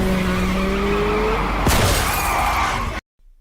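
A motorcycle crash in a movie chase scene: steady engine and road roar with tire skidding, then a sharp scraping, shattering impact midway, the noise continuing until it cuts off abruptly into silence.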